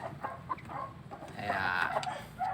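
White leghorn gamefowl chickens, free-range birds recently penned, give soft, scattered clucks and short calls at close range, fairly quiet, with no one speaking.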